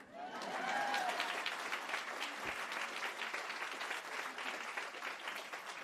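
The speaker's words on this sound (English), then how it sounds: "You can clap for that." Audience applause fills a doctoral commencement ceremony at Lesley University, a steady wash of clapping from a large crowd that swells early and holds for several seconds without talk.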